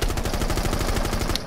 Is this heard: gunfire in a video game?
yes